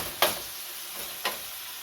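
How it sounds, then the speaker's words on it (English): Ground beef sizzles steadily in a hot pan for a chopped cheese sandwich, broken by two sharp scraping chops of a utensil against the pan. "I'm going to just let this cook on a nice heat, chopping it a little but not going crazy."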